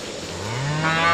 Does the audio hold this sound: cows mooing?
yes